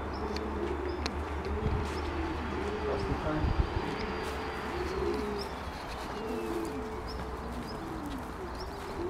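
Pigeons coo in a loft, repeated soft rolling coos overlapping in a steady rhythm, close by, with a few chirps and light knocks amid low background hum.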